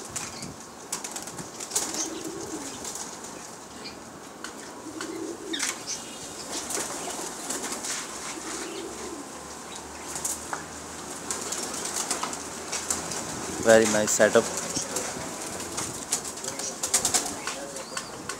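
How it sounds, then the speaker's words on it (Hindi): Pigeons in a rooftop loft, wings flapping in soft repeated bursts with occasional faint coos, fairly quiet, with someone briefly speaking over them. "अब आपको हम कबूतर दिखाने लगे हैं। लीजिए, बेहतरीन बेहतरीन कबूतर।"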